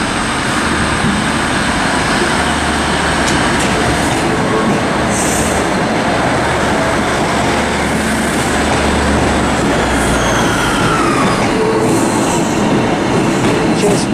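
A Northern passenger service, unit 156421, pulls away from Carlisle station on the West Coast Main Line, its diesel rumble steady and loud throughout with occasional wheel squeal and rail clatter.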